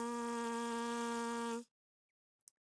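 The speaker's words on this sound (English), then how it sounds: "Try to do one of those just free buzzing on a low C." Lips free-buzz a low C as on a trumpet mouthpiece, a steady rich buzzing tone held loud and close for about a second and a half before stopping abruptly, followed by silence.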